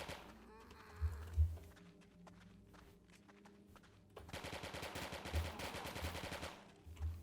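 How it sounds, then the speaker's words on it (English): Rapid video game gunfire while shooting zombies, heard as fast repeated bursts of shots with a quieter stretch in between, fairly faint overall. "I like shooting zombies and running at the same time."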